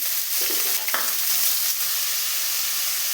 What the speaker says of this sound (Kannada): ಒಂದು ಪ್ಯಾನ್ಗೆ ಎಣ್ಣೆ ಕಾದ ನಂತರ ಸಾಸಿವೆ, ಈರುಳ್ಳಿ